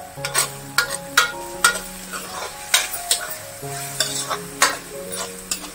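Matar palak paneer masala is sautéed in oil, with a spoon scraping and tapping the pan in a quick irregular rhythm, close and clear over a faint sizzle and a low background tone.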